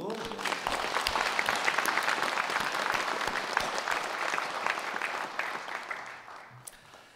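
A church congregation applauds in thanks during a Korean Sunday service, with dense steady clapping for about six seconds that gradually thins and fades out.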